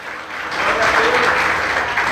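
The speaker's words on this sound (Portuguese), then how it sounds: "Você pode aplaudir o Senhor?" A church congregation applauds, a dense swelling wash of clapping that builds and holds steady, with a few voices cheering underneath.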